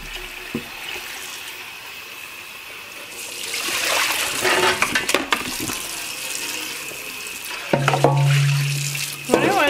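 Running tap water splashes while an air fryer basket is washed by hand, starting quiet and then swelling into sustained splashing and rinsing with clinks of the basket, nearby, with a brief voice toward the end.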